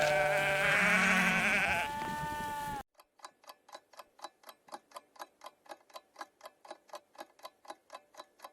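A sheep bleats loudly in a single drawn-out, wavering call, then falls silent, followed by a steady, rhythmic ticking.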